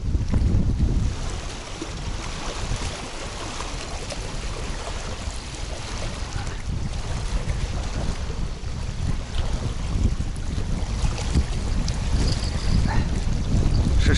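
Strong wind gusts roar steadily across an autumn pond while fishing, a loud broadband rush with deep low buffeting that never lets up across the whole stretch.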